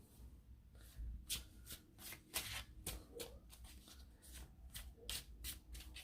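Tarot cards being shuffled by hand, a series of quick riffling bursts and soft rubbing slides in an irregular rhythm, close and quiet with no talk.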